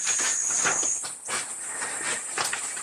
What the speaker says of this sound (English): Would you hear our cicadas?